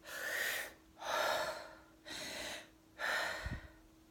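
Slow, deep breaths sound close to the microphone during a breathing exercise, in four strong breaths at a steady pace of about one per second, with a soft low hum underneath and no talking.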